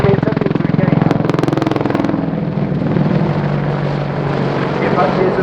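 British Army AgustaWestland Apache helicopter in a flying display, a steady loud rotor and engine drone with pulsing blade chop, under a commentator's voice.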